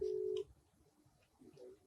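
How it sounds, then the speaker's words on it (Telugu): An outgoing video call rings through a phone: one loud, steady ringback tone lasting under half a second, then it cuts off and faint background voices and room noise take over. "రింగ్ అవుతుంది"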